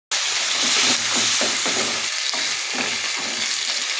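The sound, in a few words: frying spice paste of chilli, onion, ginger, garlic, cumin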